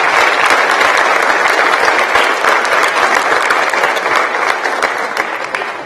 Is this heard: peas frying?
no